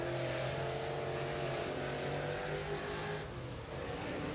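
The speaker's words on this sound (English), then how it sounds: "Jeff Jackson going to be trying to get his car wound up on the front stretch" Race car engine at Mountain View Raceway in Spring City, Tennessee, winding up along the speedway front stretch, a steady droning roar with layered engine tones that eases slightly near the end.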